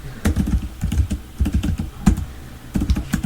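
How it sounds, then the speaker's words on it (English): Rapid clattering keystrokes on a computer keyboard, close and uneven in bursts with brief pauses between runs of typing, no voices over it. "I gotta put the mic down so I can type"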